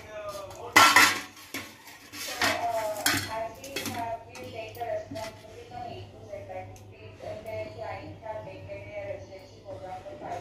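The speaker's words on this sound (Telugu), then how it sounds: "ఇప్పుడు మనం ఒక ప్లేట్లోకి తీసుకుందామండి." Fried rice and red-lentil punugulu being served onto a plate, with clanking pots and scraping utensils, one loud clatter near the start and lighter clinks afterward, while someone talks over it.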